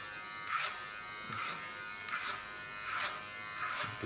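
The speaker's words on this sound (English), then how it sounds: "Using my clipper as a comb again" An electric hair clipper buzzing through a friend's short hair during a home haircut, its steady motor hum swelling into five bright, rhythmic bursts as the blades pass through the hair, close by with no talking.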